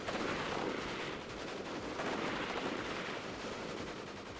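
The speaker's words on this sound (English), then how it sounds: "Riflemen are gonna smoke these guys because they have 2 light machine guns." Continuous automatic gunfire from light machine guns in a WARNO battle, a dense steady rattle of rapid bursts close by and loud throughout with no talk.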